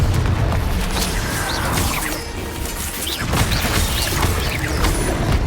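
The fiery Confringo spell bursts in Hogwarts Legacy combat, with booming blasts, crashes and swooshing magic hits layered over mechanical game effects, loud and close.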